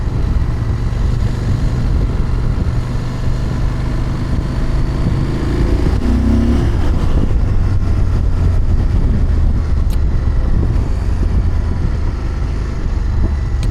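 A CFMOTO 1000 MTX motorcycle being ridden along roads gives a loud, continuous engine drone blended with heavy wind rush, holding steady from start to end with no talk.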